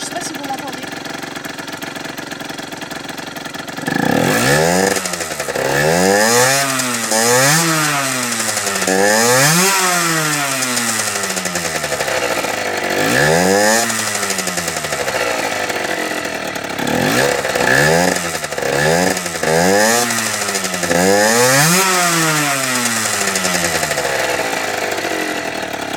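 A motorcycle engine runs and revs repeatedly, each rise and fall of pitch clearly audible as the throttle is blipped several times in succession, loud and close after a few seconds of quiet.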